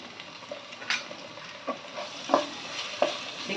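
Ginger stirred in a sizzling frying pan, with a soft steady fry underneath and several distinct scraping strokes of the spoon at irregular intervals.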